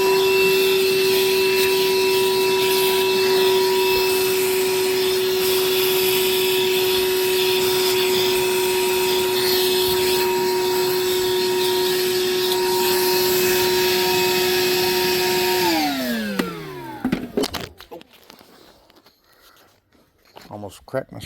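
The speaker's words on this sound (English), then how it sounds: "we're going to come vacuum up our chips real quick" A shop vacuum roars steadily as it sucks up metal drilling chips while building a 46/47/48RE transmission, a loud constant whine with faint rattles of chips, then the motor winds down and cuts off near the end.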